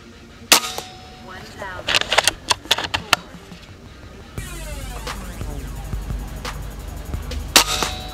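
A Hatsan Factor BP 4.5mm air rifle firing a five-shot group, each shot a sharp, close crack with a brief ring, spaced irregularly among quieter clicks and handling noises.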